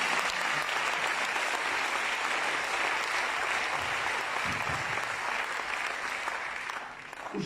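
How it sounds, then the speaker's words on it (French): A church congregation applauds and acclaims the Lord in a sustained burst of dense clapping that holds steady for several seconds before tapering off near the end. "acclame encore le Seigneur très très fort"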